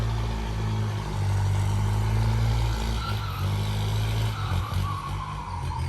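A turbocharged M75 tractor engine drones loud and steady at close range as it pulls a four-disc plough through loamy soil, a continuous low rumble with no talking.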